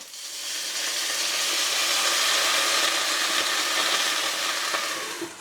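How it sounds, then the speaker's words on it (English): A steady, loud sizzle and hiss of steam as water with coconut aminos is poured into a hot oiled pan of cabbage dumplings, lasting several seconds without break. "I'm going to pour this half cup of water in here with a little bit of coconut aminos in it, and I'm going to let them steam"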